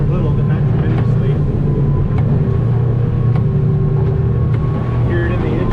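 Outboard engine of a Stabicraft aluminium boat running steadily in high winds and choppy water, a continuous low drone with wind roar, and people talking over it.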